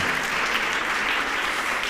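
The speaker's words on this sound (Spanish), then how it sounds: "Un aplauso para un magnífico representante de la arquitectura murciana." Audience applause after an architecture lecture: steady, even clapping from a seated crowd in a hall for a couple of seconds.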